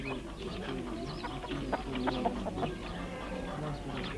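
Household hens grazing on flat village roofs in Turkey cluck softly among other bird calls, a busy patch of short chattering sounds at moderate distance.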